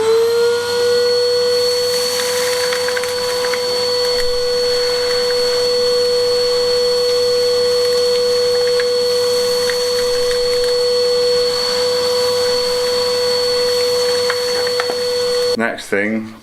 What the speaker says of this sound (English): The next job to get Henry and suck all the loose stuff out